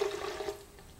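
Freshly squeezed orange juice pours into a blender with a steady, close liquid splash lasting about a second.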